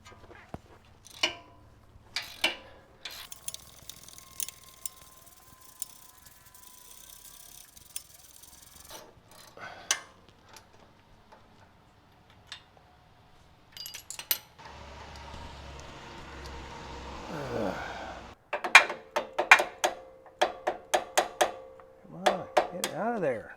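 An 18 mm socket on a wrench works a bolt on a Jeep Rubicon 392's suspension at the sway bar link with a flag nut, making scattered metallic clicks, scrapes and a short rasping burst of ratcheting, with a voice talking now and then.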